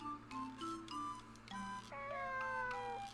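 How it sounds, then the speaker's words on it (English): Several short cat meows in the visual novel If My Heart Had Wings, each a rising-and-falling harmonic call, clear and fairly close over a steady background music bed, with no talking. "A cat?"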